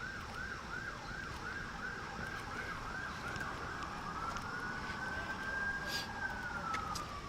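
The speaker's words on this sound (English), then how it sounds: "The sirens, I hear them." Emergency vehicle siren wailing at a distance, a rising-and-falling yelp that shifts into a long steady wail, faint and continuous behind low background noise.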